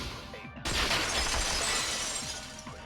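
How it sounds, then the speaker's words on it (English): Vases shatter in the video game Danganronpa 2, a sudden bright crash of breaking ceramic that bursts in loudly and then rings out into a long scattering tail of fragments. "No, they heard the vases shattering."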